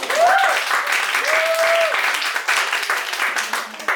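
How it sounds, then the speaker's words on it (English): Audience applause, a steady burst of many hands clapping from start to finish, with a few voices calling out over it. "Let's give her applause."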